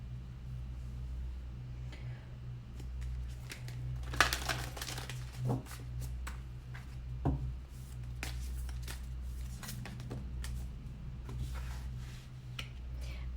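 Tarot cards are shuffled in soft, quiet bursts of papery riffling and crinkling over a low steady background hum, with a few sharper flicks standing out.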